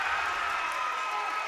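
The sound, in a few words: crowd cheering at high school basketball game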